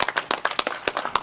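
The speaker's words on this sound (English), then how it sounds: "if we could give these gentlemen a round of applause" Applause for veterans at a press conference on a jobs bill: a brief patter of clapping from a small group, irregular and fairly close, with no talk over it.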